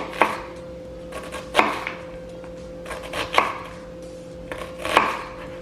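A knife chopping vegetables for a corn and tomato salad, four distinct sharp thuds on a cutting board spaced more than a second apart, close and clear with no talking.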